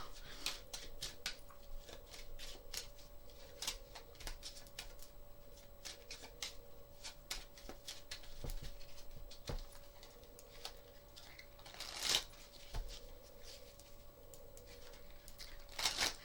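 Tarot cards being shuffled by hand during a pick-a-card love reading, producing soft, scattered riffling clicks and slaps in uneven bursts over a faint steady hum, with a couple of sharper crisp flurries near the end.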